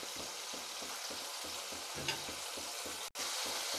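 Chicken popcorn fries in hot oil with a steady, close sizzle, while a utensil stirs in a regular rhythm beneath it and there is a brief dropout near the end.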